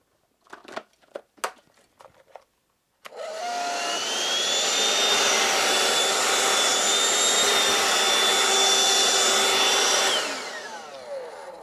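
A 12V cordless vacuum running on a DeWalt 18V battery through an adapter: a few sharp clicks, then the motor spins up to a loud, steady, close whine for about seven seconds before winding down.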